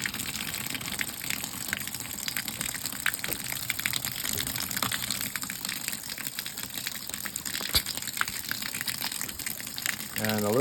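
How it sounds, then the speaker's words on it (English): Water gushes steadily into an off-grid washing machine as a load is being filled, a continuous close splashing pour that runs unbroken for about ten seconds. "And now I'm going to add some water."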